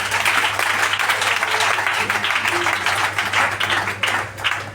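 A church congregation at a prayer gathering claps together in sustained, dense applause that holds at full volume throughout, with voices faintly mixed in.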